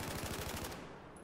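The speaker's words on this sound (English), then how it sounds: "Do you plan on using that automatic machine gun a lot?" An automatic machine gun fires in a video game, a fast burst of rapid, evenly spaced shots that cuts off after less than a second and leaves a fading tail.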